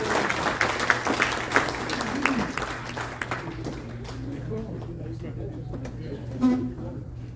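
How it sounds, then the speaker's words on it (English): Audience at a sailing presentation clapping for a few seconds, then the applause fades into scattered claps under a murmuring room and voices. "let's have the clapping again"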